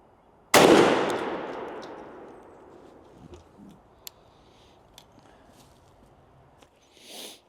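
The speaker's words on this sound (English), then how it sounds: "Last shot of the 40-yard group test. We got the TSS lead blend." A single loud turkey shotgun blast firing TSS lead blend shot at a 40-yard pattern test outdoors, a sharp close report followed by a long decaying echo and a few faint clicks.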